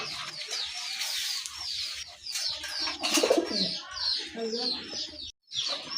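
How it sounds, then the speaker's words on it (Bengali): Local domestic running pigeons coo and call repeatedly at a farm selling pigeons and chickens, the soft rhythmic coos close by and mixed with chirps, brief sounds and voices in the background. "এটাও কিন্তু দেশি কবুতর, রানিং কবুতর।"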